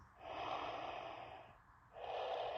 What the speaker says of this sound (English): this is nice to get the breathing once again